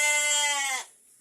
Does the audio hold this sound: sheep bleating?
yes